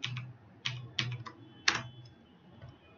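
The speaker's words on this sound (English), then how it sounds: "while pressing the Alt key, without releasing it from the NUM keyboard, you have to press 255." Keys on a computer keyboard's number pad are pressed one at a time to enter Alt code 255 in Windows 10, giving about five sparse, fairly close clicks over a low steady hum, with no talk.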